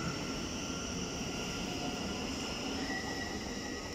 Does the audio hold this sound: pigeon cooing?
no